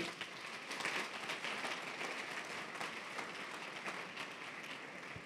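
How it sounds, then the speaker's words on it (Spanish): A church congregation claps in a dense, steady patter of applause, heard from a distance and fairly faint. "déle un aplauso fuerte al Señor"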